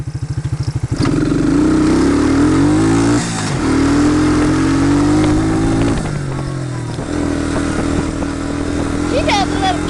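A Suzuki Quad Runner ATV with a bogging engine, idling loud and close before revving hard and holding a rough, wavering drone with small dips, while people shout and talk over it.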